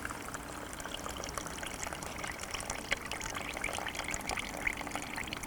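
Water trickling and pouring off soaked fishing pellets as they are drained, a steady close splashing dribble with occasional brighter drips, heard alone without voices.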